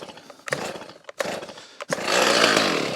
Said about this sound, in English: we'll fire up the Stihl 290 and see what it looks like